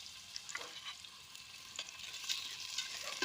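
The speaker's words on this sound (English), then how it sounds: "We start by lightly frying a few onions." A few onions frying lightly in a pan over an outdoor hobo-style cooking fire, a soft continuous sizzle with occasional crackles and stirring scrapes, quiet and close with no talking.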